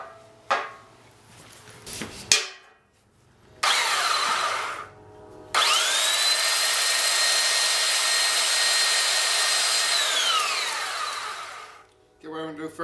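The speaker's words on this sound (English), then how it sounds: "I'm going to sharpen one end, and I'm just going to use a sander" A sander grinds the end of a metal pipe to sharpen it for a carpet hole punch: a brief whir, then a long, loud, steady high-pitched spin-up that winds down near the end, close by, with some talk.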